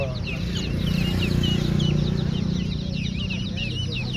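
A crowd of chickens and chicks, including colored, country and turkey chicks, peeps and clucks nonstop. Dense, overlapping high chirps fill the whole stretch, with a low murmur of voices underneath.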